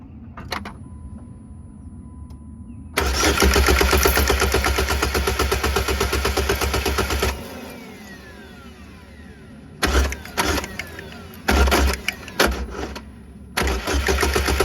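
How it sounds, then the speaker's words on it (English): The engine of a 2007 Saturn Vue with a straight-pipe exhaust cranks over. A long starter grind comes first, followed by several shorter cranking bursts with quiet gaps between them, loud and close. "maybe I'll crank it over a couple times and see how that chain moves around."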